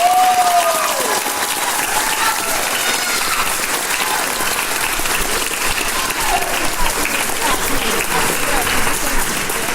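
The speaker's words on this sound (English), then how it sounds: "let's give another round of applause for all those behind-the-scenes jobs" A high school theater audience applauds in a dense, sustained wash of clapping that stays loud and steady throughout, with a voice briefly audible at the start.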